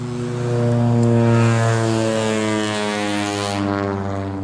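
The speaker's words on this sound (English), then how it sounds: "it sounds like an airplane, like 20 feet away" A loud, steady propeller-plane drone with strong harmonic hum, close by and swelling slightly before easing off, with no talking.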